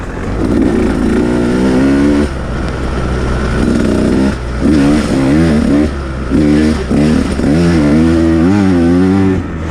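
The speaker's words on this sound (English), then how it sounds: "So this is a Husqvarna TE-150. It's a two-stroke enduro bike." A 2019 Husqvarna TE 150 two-stroke enduro motorcycle idles and revs close by on a rainy day, its raspy buzzing engine note rising and falling through repeated throttle blips, with no voices.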